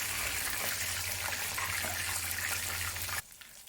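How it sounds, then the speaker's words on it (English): Steady, loud hiss of chicken pieces deep frying in hot oil, continuous and dense, ending abruptly just before the close. "This method of deep frying will ensure that the chicken will become very crispy"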